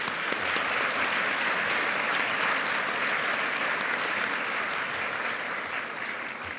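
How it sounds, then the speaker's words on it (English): A conference audience gives panelists a full, sustained round of applause at the opening session, dense clapping at close range that stays level and tapers only slightly at the very end. "Let's give our panelists another round of applause."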